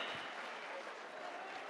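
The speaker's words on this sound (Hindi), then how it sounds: "इनकी हौसला अफजाई के लिए बहुत सारी तालियां बजा दीजिए एक बार" Applause from the audience at an Urdu mushaira in Oman, a steady wash of clapping from many hands that carries on without a break through the whole short moment.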